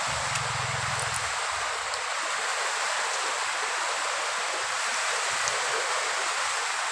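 Steady rain falling outside a house in a barangay, a constant soft broadband hiss with no talk, and a brief low hum fading out near the start.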